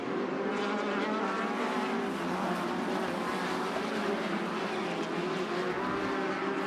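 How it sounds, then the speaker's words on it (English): Super Buggy and UTV race cars roar together at the start of green flag racing, a dense, continuous engine drone that stays loud and steady throughout. "As we're going to green flag racing right about now, here we go."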